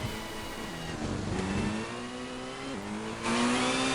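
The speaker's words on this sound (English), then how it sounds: "You should be able to hear that lovely engine noise." Rally car engine in the Colin McRae Rally video game, revving steadily with rising and falling pitch through gear changes, loud and continuous, with a brighter burst of noise near the end.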